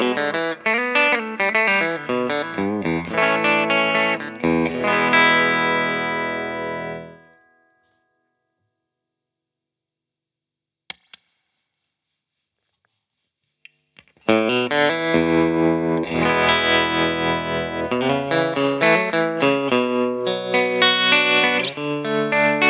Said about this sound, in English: So the Goldtop straight into the amp sounds like this.